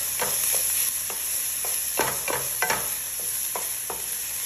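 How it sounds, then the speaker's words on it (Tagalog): Garlic and ginger stirred into onion and chili frying in a pan, a steady sizzle with a series of scraping strokes of the spoon at an uneven pace, close up. "i-add ko na itong pinagsama kong garlic at ginger at imimix ko lang siya"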